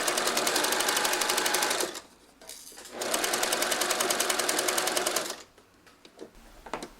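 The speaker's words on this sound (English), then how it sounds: "we're going to sew this down now" A sewing machine stitching fabric for a vintage blouse runs in two steady, fast, whirring bursts of about two seconds each, separated by a short pause, followed by a few quiet clicks and handling noises.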